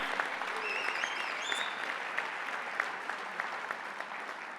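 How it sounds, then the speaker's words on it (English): Delegates at a union annual meeting give their leaders a round of applause, heard as a soft, steady wash of many hands clapping, somewhat distant, with a few faint whistles riding above it. "Give all of your leaders a round of applause for the work that they do on your behalf."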